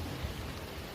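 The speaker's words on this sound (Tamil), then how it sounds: "இங்கே நல்ல மழை பெய்யுது, ரொம்ப மழை." Heavy rain pours steadily on a misty hillside by Avalanche Lake, a dense, continuous hiss with low rumbling undertones and no talk.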